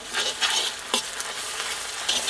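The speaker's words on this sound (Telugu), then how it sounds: "ఒక్క చెంచా అల్లం వెల్లుల్లి పేస్ట్ కూడా వేసుకుని పచ్చి వాసన పోయే వరకే కలుపుకుందామండి." Onions and ginger-garlic paste fry and sizzle in a pan as they are stirred, giving a steady bright hiss broken by a few louder scraping stirs, close and with no voices.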